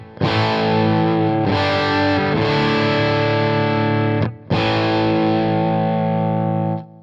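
Electric guitar rhythm through a Jackson Audio Prism pedal on its medium gain setting with a MOSFET amp voice: loud, sustained distorted chords ringing for several seconds, with a short break before a final chord, and no talk.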